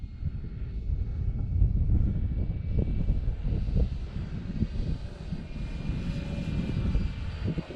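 A large Draco airplane in flight gives off a steady, loud engine roar with low rumble and wind buffeting throughout.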